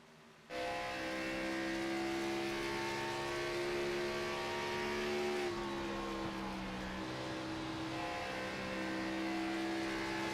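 Steady, loud onboard engine roar of a race car lapping Darlington in a racing video game, holding a sustained high drone with a slight pitch shift midway as the car works through a turn, no voices.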